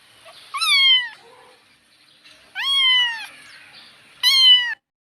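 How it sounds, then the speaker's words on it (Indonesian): A domestic cat meows three times, each call a drawn-out, clear, fairly loud cry spaced a second or so apart, with near silence between them. "bagaimana suara kucing"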